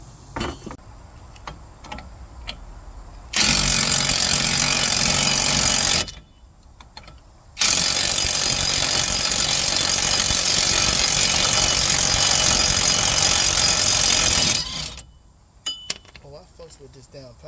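Power tool running during an axle and brake job on a vehicle, two loud sustained bursts of a few seconds each, close by, separated by a short pause with faint clinks and ambient noise.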